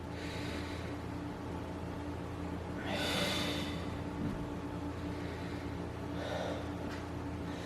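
One slow, deep exhale during a yoga pose, close and soft, rising out of a steady low room hum. A fainter breath follows a few seconds later, and nobody speaks.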